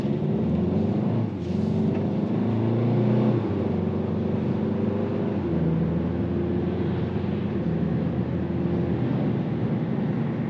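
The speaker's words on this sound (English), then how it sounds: "it's a lot of revving once again in the normal drive mode" A 2024 Hyundai Kona in normal drive mode, its engine revving and winding out under acceleration, a steady droning hum with wind noise, continuous and fairly loud from inside the cabin.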